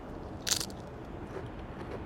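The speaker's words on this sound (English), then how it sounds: "That's what's gonna make it seem really, really crunchy when you bite down on it." A thin, delicate homemade Pringles-style potato chip is bitten once, a short crisp crunch at close range in an otherwise quiet room.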